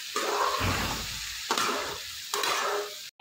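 Tomatoes frying in a brinjal curry being stirred in the pan, a loud hissing sizzle broken by three scraping stirring strokes, with no talk.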